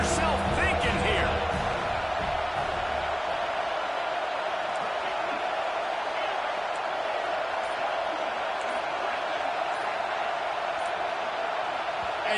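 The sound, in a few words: stadium crowd noise in Madden football video game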